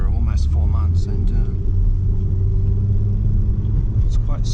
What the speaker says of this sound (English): I can hear the engine, which I'm quite happy about